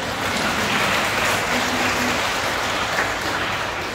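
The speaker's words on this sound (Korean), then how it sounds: "이때 박수 한번 쳐야 됩니다." Steady applause from a church Mass congregation, a broad wash of clapping that holds at an even level throughout with no voices over it.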